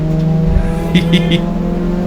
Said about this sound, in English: Apparently that Volvo engine makes some power